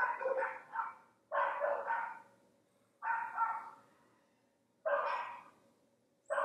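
Several dogs bark loudly and close by in repeated bursts of two or three barks, separated by short pauses, with no voices.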